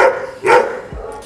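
A dog gives a single short bark, then a softer yip, close and fairly loud, with no talk over it.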